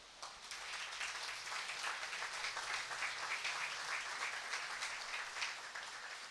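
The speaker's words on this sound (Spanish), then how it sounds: "Denle un aplauso al Señor" A church congregation applauds steadily during a Sunday service for several seconds, a dense wash of clapping that stays fairly even throughout.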